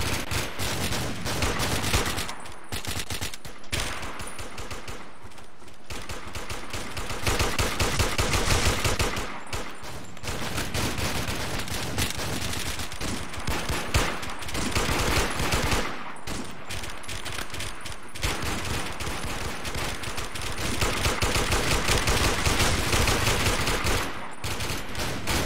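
Rapid pistol fire in Warmode gameplay, sharp shots cracking almost continuously for the whole stretch, loud and close, with only brief gaps between volleys.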